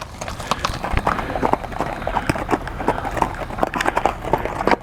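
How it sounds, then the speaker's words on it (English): Horse hooves clip-clop steadily on a ranch in Tucson, Arizona, a rapid rhythm of close hard knocks continuing throughout with light background voices underneath. "I'll just take the horse."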